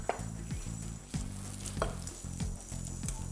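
Butter melting in a pan for a brown roux sizzles and crackles steadily at close range, with a few light stirring scrapes along the way and no talking.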